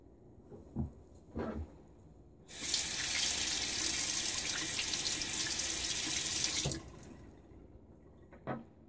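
Tap water runs steadily into a sink for several seconds while rinsing during a wet shave, preceded and followed by faint splashes and taps, fairly quiet and close.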